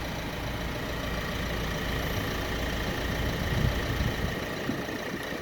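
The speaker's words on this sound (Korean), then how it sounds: "디젤 차량 시동이 걸려있는 모습이고" The 1.6-litre diesel engine of a Chevrolet Malibu idles steadily up close, a dense, rough rumble with a faint clattering texture that holds evenly throughout.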